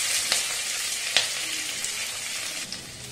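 Vegetables, onions among them, fry lightly in a pan for a Chinese-style dish, giving a soft, steady sizzle with a few faint stirring clicks and no voices.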